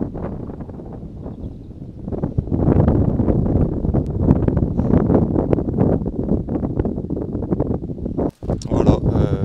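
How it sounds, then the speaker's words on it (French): Wind gusting across the mountains of the Pyrenees, loud buffeting and rushing close to the microphone, rising and falling continuously with rough bursts throughout. "Je sais pas si vous allez bien entendre avec le vent là"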